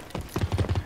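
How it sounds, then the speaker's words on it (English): Rapid in-game footsteps from Rogue Company, a run of quick, close thumping steps with a clip-clop rhythm, fairly loud and with no talk over them. "I hear your footsteps."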